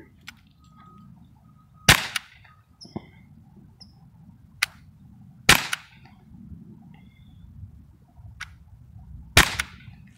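A modified Crosman Vigilante air pistol fires riot balls outdoors, with three sharp, loud cracks spaced a few seconds apart and a few fainter ticks and clicks between them over quiet background.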